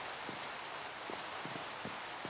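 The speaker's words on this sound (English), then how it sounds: "It's raining." Steady rain falls in the game Minecraft (ATM6 modpack) as a soft, even hiss with a few faint droplet taps, quiet and continuous with no voices.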